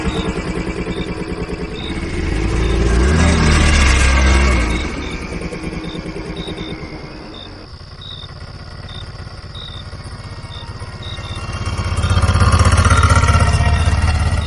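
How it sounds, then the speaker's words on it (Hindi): An auto rickshaw's small engine starts with a clattering idle, swells, settles, and then rises again as it pulls away, loud and close throughout with a steady tick underneath. "ऑटो में बैठते ही राजू भाई ने चुपचाप इंजन स्टार्ट किया और बिना ज्यादा कुछ बोले हम वहां से निकल पड़े।"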